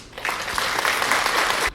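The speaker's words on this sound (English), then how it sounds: "That was a clapping effect." A short burst of clapping sound effect, a dense patter of many hands starting abruptly and cutting off sharply after under two seconds.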